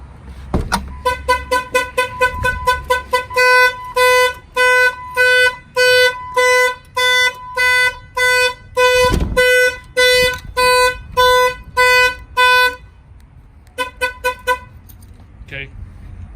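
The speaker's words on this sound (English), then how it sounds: "if somebody opens the door, the alarm will fire off" A Jeep's car alarm blares in a rapid run of loud, evenly spaced horn honks that slow toward the end, with a few scattered thumps and a brief chirp at the close.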